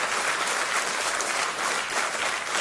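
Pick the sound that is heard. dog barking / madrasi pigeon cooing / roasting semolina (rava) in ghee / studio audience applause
studio audience applause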